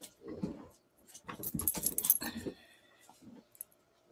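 A dog gives a few short, close barks and whimpers among jangling clatter.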